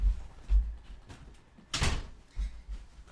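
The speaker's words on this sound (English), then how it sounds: "let me close my door." A room door being closed, with a soft swing and a clear latching thump midway through, followed by low bumps in a quiet home office.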